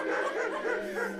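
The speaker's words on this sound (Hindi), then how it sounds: "दूर कहीं कुत्ता भौंक" A dog barks somewhere far off on a silent night at the edge of a village near a cremation ground, a faint, continuous series of yips and barks.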